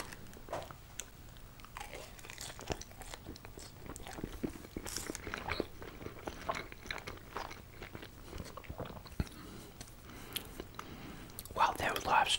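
Cheesy fries topped with bacon being eaten close to the mic, soft crunchy bites and chewing recurring across the clip under quiet whispering, with a crinkle of packaging near the end.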